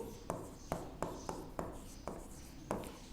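Writing on a board: about seven short, evenly spaced strokes tap and scrape close by at a steady, unhurried rhythm.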